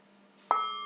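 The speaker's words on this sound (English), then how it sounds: "you don't have to have a sound bowl like me, but I love the sound bowl" A sound bowl is struck once after a near-silent start, then rings on with a clear, sustained shimmering tone that slowly fades.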